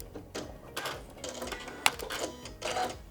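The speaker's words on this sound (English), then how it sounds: "now I'm gonna do a lock stitch to secure our threads, and it'll trim also" A sewing machine runs a lock stitch on quilt facing, with short bursts of rapid mechanical whirring and a sharp click as the thread trims.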